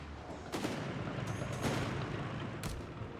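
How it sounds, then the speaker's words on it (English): Battle gunfire from Company of Heroes 3, with grenadiers under fire: several sharp, loud shot bursts over a constant rumble of combat noise. "Grenadiers are under fire! Find cover!"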